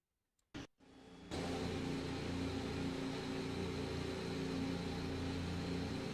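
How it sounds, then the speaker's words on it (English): A car engine in an F1 racing video game: after a few brief clicks near silence, a steady droning engine tone with a constant hum sets in and holds, moderately loud and close, with no voices. "There we go with the downshift in the corner again"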